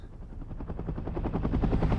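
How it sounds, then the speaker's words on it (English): Rapid thudding rotor beats of a large helicopter in a film soundtrack grow steadily louder, a heavy rhythmic chop close by. "Oh, that's a big helicopter."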